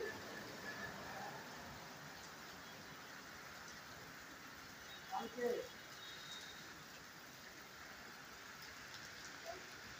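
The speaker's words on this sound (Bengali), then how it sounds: "গত রাত থেকে প্রচণ্ড বৃষ্টি হয়েছে, চলছে" Dense, continuous heavy rain hiss fills the scene at an even level, broken once by a brief louder disturbance partway through.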